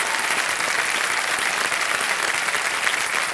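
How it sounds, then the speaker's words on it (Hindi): Studio audience on the TV quiz show Kaun Banega Crorepati applauding a contestant, a loud, dense, sustained wash of clapping that holds steady throughout with no break. "जोरदार तालियां बज जाए इनके लिए।"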